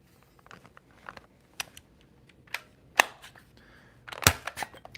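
Dry firing a Brute Pro pistol blaster with slam fire, producing a scattered series of sharp mechanical clicks and snaps, several louder ones standing out, close to the microphone.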